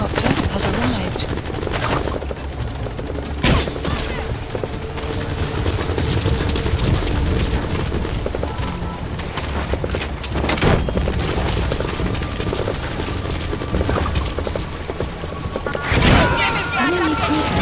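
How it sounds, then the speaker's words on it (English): In the video game Metal Gear Solid V: The Phantom Pain, a support helicopter arrives with a constant rotor roar while bursts of machine gun fire crack in the foreground and voices speak over the din. "Support helicopter has arrived."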